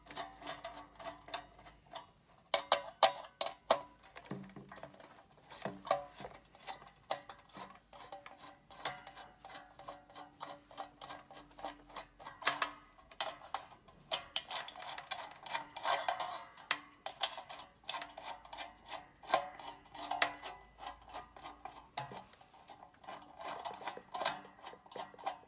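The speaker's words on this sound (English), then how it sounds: "And then I'm going to take my star screwdriver. First, unscrew the top part." A star screwdriver works screws out of the top part of a Le Morgan halogen convection oven, giving soft scattered clicks and small metallic ticks and rattles, close but quiet, with no one speaking.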